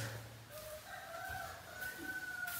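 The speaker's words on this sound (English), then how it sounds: "I can hear the rooster calls." A rooster crows faintly at a distance on a village morning in Meghalaya, with a few drawn-out calls over quiet background ambience.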